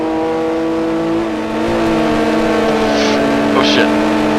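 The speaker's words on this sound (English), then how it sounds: "I can hear your engine." Race car engines in a Gmod racing game drone and rev loudly and continuously, with a steady tonal whine rising slightly in pitch, while a voice talks briefly over them.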